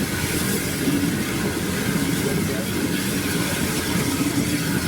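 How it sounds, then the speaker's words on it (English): A steam train on the Kent and East Sussex Railway rumbles past loudly and continuously, working hard, a heavy mechanical roar with rhythmic rail noise and no talking. "you like listening to steam trains work hard"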